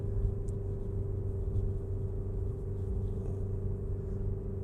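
Porsche Cayenne Turbo GT engine in overtaking mode, heard from inside as a steady low rumble with a constant drone, fairly quiet and with no talking.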